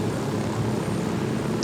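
A helicopter flies in the video game Ghost Recon Wildlands, a steady broadband rotor and engine drone that holds even and continuous from start to end.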